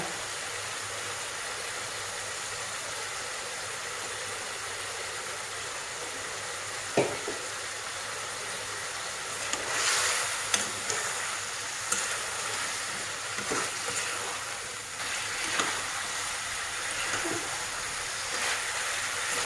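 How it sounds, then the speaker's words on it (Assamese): Local chicken frying in a pan with long pepper powder, a steady close broadband sizzle throughout with occasional clicks and stirring scrapes in the second half. "অলপ সময় এনেকৈ ভাজিব লাগিব"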